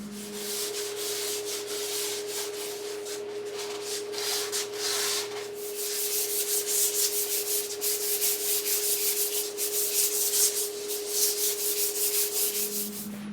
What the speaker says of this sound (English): I've got some 150 grit. I'm just going to go over really lightly.